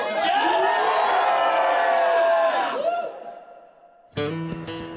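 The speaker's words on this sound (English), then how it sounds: "Look at them, the crowd are absolutely crazy about them." Large outdoor crowd cheering and shouting wildly for Kate and William on day five of their Canada tour, loud and sustained before fading, then a brief burst of brassy music near the end.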